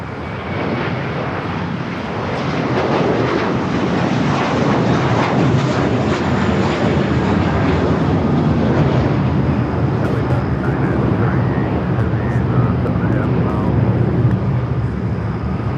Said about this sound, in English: we got that U.S. Airways Retro A321 with American now rolling down to 25 right